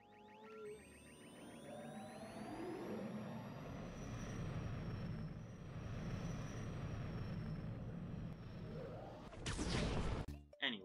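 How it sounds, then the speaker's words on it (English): Helicopter in the Spider-Man PS4 video game, a steady low rotor and engine drone running under game sound effects and faint talk, ending in a sudden crash and clatter. "this helicopter that forgot what franchise it was in."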